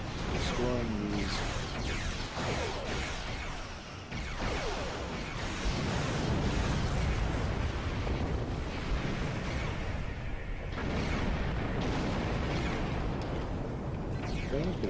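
Repeated booms and bursts from destroying objects in the space game Star Trek Online, rumbling loudly through the whole stretch under an overlapping talking voice.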